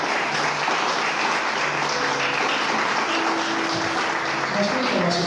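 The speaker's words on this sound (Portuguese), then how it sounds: "Quem puder aplaudir o nome do Senhor." Steady applause from a church congregation fills the space, with a few voices and a tonal hum threading underneath the dense clapping.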